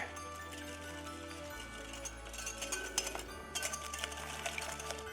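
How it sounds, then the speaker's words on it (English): A whisk works through gingerbread biscotti wet ingredients with vanilla extract and molasses in a bowl, giving a quiet stream of light clinks and taps that grows busier and more rhythmic partway through. "Then we want to whisk this together."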